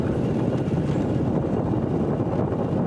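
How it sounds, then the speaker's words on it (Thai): Strong wind buffets the microphone in a steady, loud, unbroken rumble outdoors on a road in Ban Na Wiang, Sam Neua, Houaphanh province, Laos. "ลมแรงเกินนะครับ"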